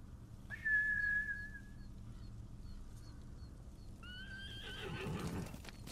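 In the video game Ghost of Tsushima, a samurai horse whinnies loudly and clearly near the start, then a second, shakier whinny comes later over faint hoof clops and a low background rumble.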